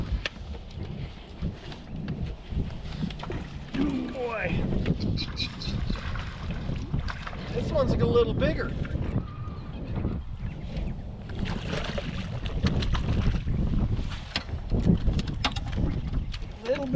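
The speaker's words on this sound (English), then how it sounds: "Man, the wind is gonna be blowing. It's already blowing pretty good." Wind blows hard across a lake and buffets the microphone during pre-spawn bass fishing from a boat on Lake Lanier, a continuous low rumbling gust noise with voices talking over it.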